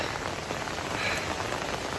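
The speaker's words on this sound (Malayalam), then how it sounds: "അയ്യോ അതേപോലെ മഴ കേട്ടോ. അയ്യോ തകൃതിയായിട്ട്." Heavy rain falls at a home, a dense, loud, continuous patter of drops on surfaces with no pauses and no voices.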